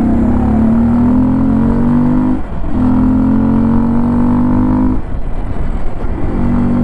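A two-wheeler engine runs steadily while being ridden standing up, a loud, close drone that rises in pitch as it accelerates, eases briefly, then climbs again in repeated pulls.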